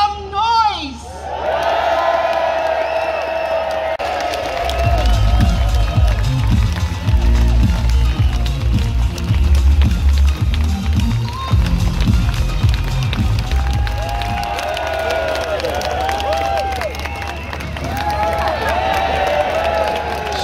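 Crowd at a national rejoin march cheers, whoops and claps in a sustained swell of noise, with voices and shouting around the microphone and the cheering fading toward the end.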